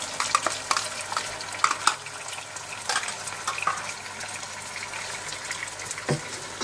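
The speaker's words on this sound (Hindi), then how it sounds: "और इसको अच्छी तरह से आप मिक्स कर लें।" Chicken with ginger-garlic paste is stirred in a pot with soft scraping and wet, squelchy sloshing, accompanied by a faint sizzle, fairly close and steady.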